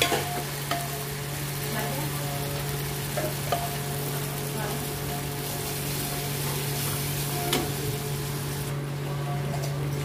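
Whole masoor dal tipped into a hot tempering of degi mirch, sizzling steadily and stirred with a few scraping knocks over a constant low kitchen hum, with no talking.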